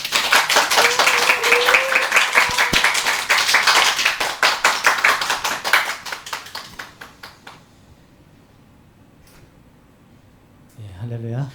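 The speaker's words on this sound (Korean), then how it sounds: "나오실 때 우리 환호와 박수로 크게 맞아드리도록 하겠습니다." A church congregation claps in a brisk, rhythmic beat to welcome a guest preacher at a Sunday service, loud at first, then thinning into scattered claps and near quiet before a voice returns at the end.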